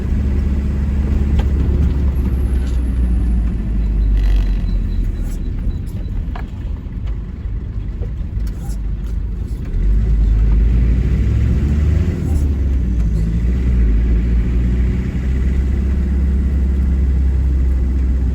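City traffic in Indre-et-Loire, France, heard from inside a moving car: a low, continuous engine and road rumble, swelling louder toward the end, with people talking over it.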